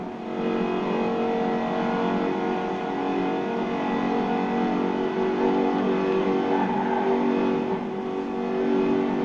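A Jaguar Project 7 sports car engine in Forza Horizon 4, a steady, fairly loud droning hum with layered tones that swells slightly a few times without sharp revs.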